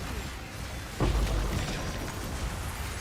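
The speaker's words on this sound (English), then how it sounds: "You see all those explosions over there?" Explosions in a video game: a low booming burst lands about a second in, followed by a dense rumbling roar that stays loud and continuous.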